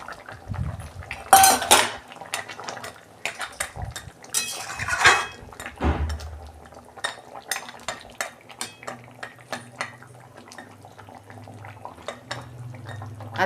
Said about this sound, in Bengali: এই যে ঢাকনা খুলছি